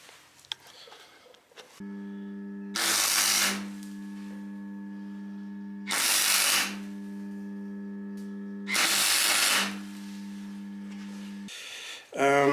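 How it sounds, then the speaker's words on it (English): Metal discs are welded for Mercedes 609D campervan dampers. Three separate bursts of harsh, crackling welding hiss, each lasting under a second, cut in over a steady electrical hum from the welder. "So let's start welding."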